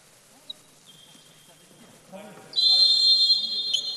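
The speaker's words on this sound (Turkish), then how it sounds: "Mola sonrası ilk düdük gelecek." A referee's whistle sounds at a handball match as play resumes after a timeout, with a brief early chirp, then a loud sustained shrill blast over crowd noise and arena murmur.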